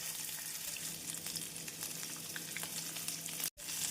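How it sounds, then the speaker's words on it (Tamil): Steady sizzling and crackling of chopped onions frying in hot oil, close and continuous, with a brief clunk near the end. "பொரியவும் நறுக்கிய வெங்காயத்தை சேர்த்து விடலாம்"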